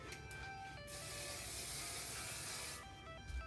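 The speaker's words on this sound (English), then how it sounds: "I usually finish it off with my Garnier Fruity Style Flexible Control Hairspray" Garnier Fruity Style Flexible Control hairspray sprayed from an aerosol can onto curled hair, a steady close hiss lasting about two seconds with short bursts around it.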